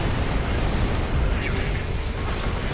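Grenade blasts in Borderlands 2 create a continuous loud, low rumbling explosion with crackling bursts and no pause throughout.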